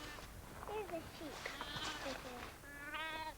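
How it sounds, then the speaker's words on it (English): Sheep on a farm in the UK bleat several times in quick, wavering calls, fairly quiet, while people talk nearby. "Here's a sheep."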